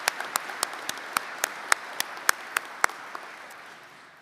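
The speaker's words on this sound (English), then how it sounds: "One more round of applause for her." Sparse, scattered hand claps from a small audience at a university commencement ceremony, a dozen or so distinct claps spread unevenly and fading toward the end.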